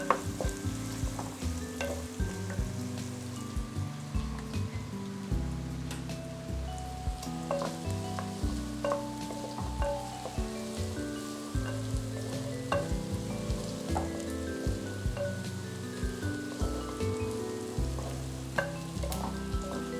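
Shallots sautéing in a pan for fish head curry, a steady close sizzle and crackle with occasional stirring scrapes, no one speaking.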